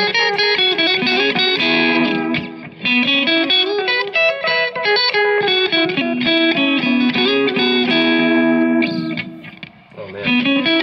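Electric guitar through a Keeley Caverns, Maxon AD9 or Catalinbread Belle Epoch delay pedal set to deep modulation, loud sustained chords with wavering pitch and trailing echoes over about eleven seconds, played alone with no voices.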